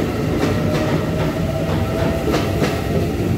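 A ten-car EMU900 electric multiple unit pulls out of Ruifang station on the Yilan line, its wheels clacking rhythmically over rail joints beneath a steady loud rumble, close by and with no voices.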